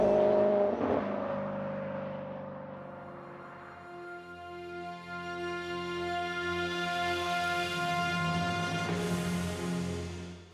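A Maserati GT car's engine revs hard and accelerates, a smooth rising whine climbing steadily in pitch over several seconds, near and sustained, with a brief swell at the start.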